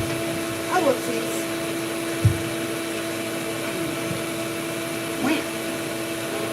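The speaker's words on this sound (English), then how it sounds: "I guess that vacuum is going to be going on periodically during this live." A vacuum cleaner runs steadily in a room where cat grooming is under way, a constant loud whine with a few faint squeaky sounds and soft thumps over it, and someone speaking briefly.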